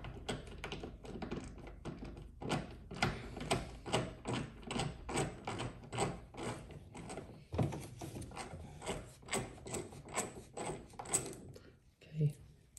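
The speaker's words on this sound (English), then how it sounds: "we're just going to use a 10mm ratchet to make life easy. So we'll get that in and just unscrew the bolt." A 10mm ratchet unscrews a bolt on a 2013 Audi R8 Spyder, giving a long run of fast, close metallic clicks in an even rhythm with a few duller knocks, ending in a brief pause.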